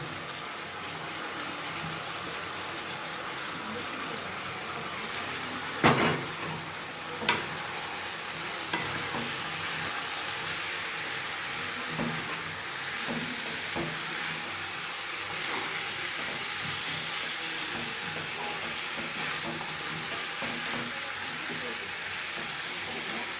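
Soaked, dried broken wheat (dalia) frying in a pan, with a steady sizzle and the scrape of stirring running throughout, plus a few sharp knocks of the spoon against the pan early on.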